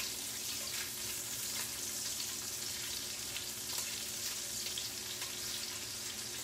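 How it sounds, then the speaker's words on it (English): Greasy bacon frying in a pan as it is flipped: a steady, dense sizzle and crackle that holds at an even level all the way through, close, with no one talking. "I think I'll flip some of this bacon a bit"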